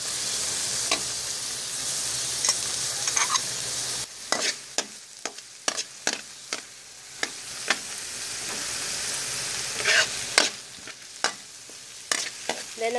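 Onion sautéing in hot oil in a pan for a buko and clam dish, a steady close sizzle broken by scattered clinks and scrapes of stirring.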